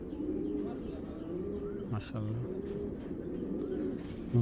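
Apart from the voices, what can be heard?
pigeons cooing, Giribaj tournament pigeons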